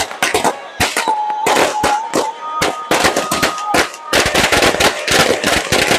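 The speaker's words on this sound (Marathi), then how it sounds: "पाठीमागे तुम्हाला इथे फटाक्यांचा आवाज येतोय," Firecrackers burst in rapid, dense volleys at the Hudotsav village festival in Konkan, sharp loud cracks in irregular clusters with a crowd faintly audible beneath.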